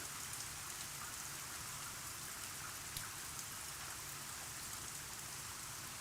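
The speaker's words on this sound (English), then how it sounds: "So right now you're hearing rain." Steady rain played as background on a live stream, an even, hissing patter of drops that runs unbroken and fairly quiet, with no voices.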